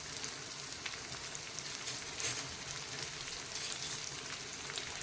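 Finely chopped onion fries in hot oil with curry leaves and cumin for vada pav, giving a steady, close crackling sizzle with no talking.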